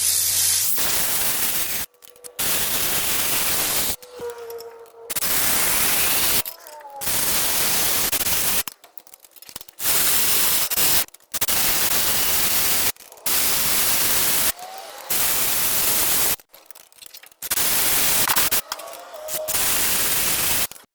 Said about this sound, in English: Now I like to run all my head bolts down with my electric ratchet before torquing them down.